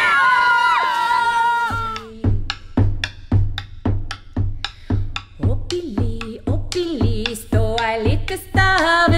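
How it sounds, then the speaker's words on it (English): Children at a kids' battlefield games event shout a rhythmic chanted cheer, with short loud voiced bursts repeating in a steady beat between higher whoops at the start and end. "Let's hear a cheer."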